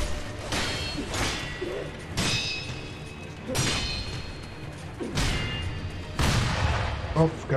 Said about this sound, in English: forgot about the gunshot.